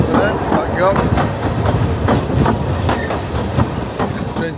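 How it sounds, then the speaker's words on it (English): A train on the line to Talyllyn in Wales, heard close with a continuous rumble and rhythmic wheel clatter over the rails, and people talking over the noise. "Train's heading off to Talyllyn"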